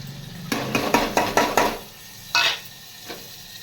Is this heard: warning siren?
no